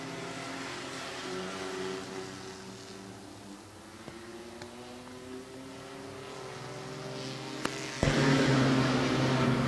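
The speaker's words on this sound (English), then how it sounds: "3 laps to go for the 5 truck of Martin." Race trucks roar around Midvale Speedway late in a race, their engines droning loudly and continuously as they pass, with pitch shifting as they accelerate and a sharp surge of engine noise near the end.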